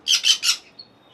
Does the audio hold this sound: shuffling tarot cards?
no